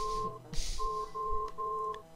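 An old mobile phone in a pants pocket rings inside a game, steady repeating electronic tones in short bursts, fairly close and clear.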